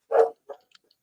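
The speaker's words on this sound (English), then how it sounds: "Dog's going nuts." A dog barks at a delivery arrival: one loud, close bark followed by a shorter, quieter second bark, then faint small noises and silence.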